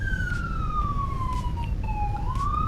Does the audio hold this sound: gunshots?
no